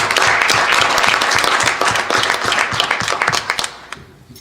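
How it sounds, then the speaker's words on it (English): An audience at a school board of education meeting in Highland Park, New Jersey, applauds a sports team, dense close clapping that holds steady, then thins into a few scattered claps and fades out. "let's clap it up for them."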